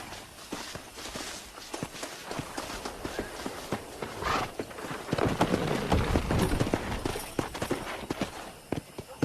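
Horse hooves clip-clop on the ground in the Red Dead Redemption video game during horse wrangling, a fairly quiet run of irregular thuds that grows denser and heavier midway, with a faint background bed and no speech.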